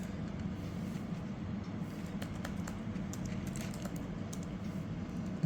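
Light, scattered key clicks from typing on a Microsoft Surface Pro 11 keyboard sit faintly over a steady background hiss, with no talking.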